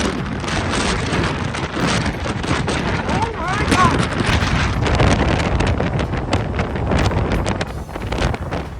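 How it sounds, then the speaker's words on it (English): Heavy wind from a massive tornado in Barney, North Dakota buffets the microphone in loud, continuous gusts with rumbling turbulence, and voices are partly audible beneath the roar. "The massive tornado on July 13, 2024 in Barney, North Dakota, swept away everything in its path,"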